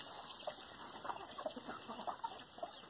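Chickens on a rural farm cluck in short, repeated bursts, nearby and fairly quiet, with no talking.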